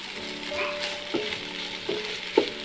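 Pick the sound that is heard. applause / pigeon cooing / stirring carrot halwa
stirring carrot halwa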